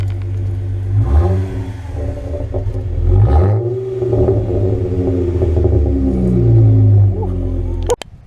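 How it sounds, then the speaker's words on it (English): A Toyota Camry engine idles with a low rumble and is revved twice, with rising and falling pitch swells. It ends abruptly near the close, and voices murmur faintly in the background. "Rev it one time."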